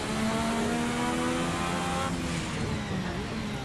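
A 1986 Formula RSS F1 car engine in a racing game, holding a steady loud high-pitched whine with the pitch dropping slightly partway through, alone without talk.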